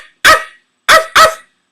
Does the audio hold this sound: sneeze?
no